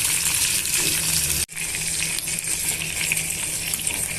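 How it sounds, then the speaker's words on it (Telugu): Two chopped ingredients, onions among them, frying in hot oil for a Dhaba-style chutney: a loud, dense crackling sizzle, broken once by a brief dip, then continuing steadily up close with no speech. "ఇవి రెండు కూడా నూనెలోకి వేసేసుకొని బాగా వేయించేసుకోవాలి"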